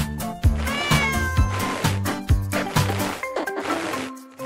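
A domestic cat meows several times in a steady run of tonal calls over a rhythmic musical backing, close and fairly loud, with no speech.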